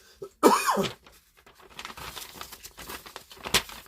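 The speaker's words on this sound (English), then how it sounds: "I got a cough." A single harsh, close cough, followed by faint rustling and scattered small noises.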